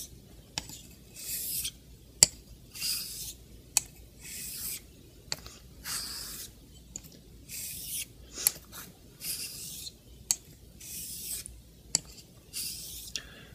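Straight razor drawn across a honing stone while setting the bevel, making a steady series of gritty rasping strokes, about one each second, close and clear with no talking.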